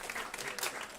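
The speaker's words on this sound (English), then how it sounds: "Keep up the applause for Jay." Steady applause from a conference audience at a regenerative food systems event, a dense patter of many hands clapping at an even level for the whole second.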